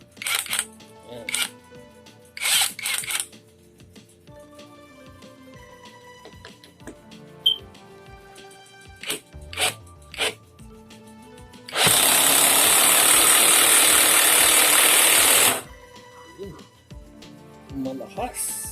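A cordless OKS impact driver driving a screw with a rubber seal, one loud continuous burst of rapid hammering impacts lasting about four seconds, surrounded by handling clicks and someone talking.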